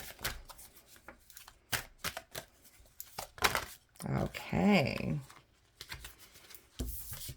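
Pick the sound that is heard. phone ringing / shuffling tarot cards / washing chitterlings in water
shuffling tarot cards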